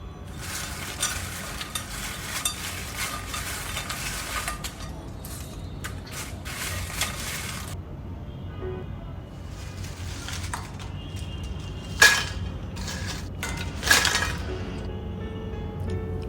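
Homemade raw potato chips tossed with salt, giving a crisp rustling, sizzle-like crackle for several seconds, then a pause and a few sharp clinks and scrapes later on, fairly close and moderately loud.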